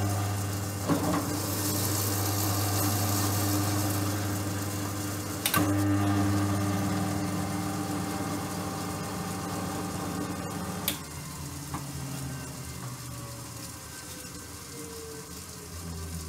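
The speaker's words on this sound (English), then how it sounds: "just so you can really feel the goodness of machine tapping with your home drill press" A home drill press taps threads with a machine tap, running as a steady mechanical hum and whir. Clicks mark changes partway through, and the tone shifts near the end as the machine winds down.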